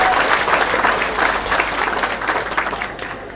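Sustained applause from an indoor audience at a youth football academy award show, honouring an under-13 team; steady dense clapping without speech, holding level throughout.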